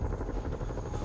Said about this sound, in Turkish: Büyük helikopter de geldi.